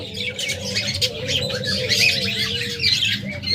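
Pet budgerigars in a bird shop chatter and squawk in a dense, steady chorus of quick chirps and warbles, close and fairly loud, with no talk over them.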